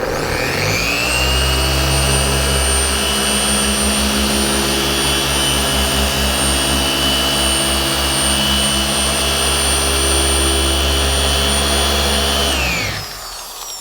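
A car paint polishing machine works the paint of a Subaru BRZ, spinning up into a loud, steady whine that holds unbroken for about twelve seconds before winding down abruptly, with no talking over it.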